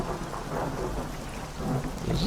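Steady rain with low rumbling thunder in the fishing video game Dredge, a continuous stormy wash that swells louder toward the end, with no voices.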